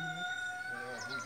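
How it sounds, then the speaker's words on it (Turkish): A rooster crows in a village, a long clear call heard at moderate distance over a faint background murmur of people. "Her yerde horozlar ötüyor."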